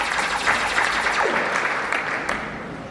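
A crowd applauds to welcome a jackpot winner onto a stage, with steady, moderately loud clapping that holds evenly and fades slightly at the end.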